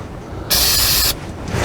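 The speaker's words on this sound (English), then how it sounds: "I'm going to spray these with this penetrating oil" A single sustained hissing burst of penetrating oil sprayed from an aerosol can onto an electric vehicle step, lasting about half a second, close and loud against a low rumbling background.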